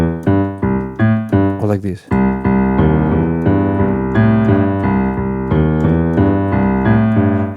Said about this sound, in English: if we play all of them as very equal notes, it should sound like this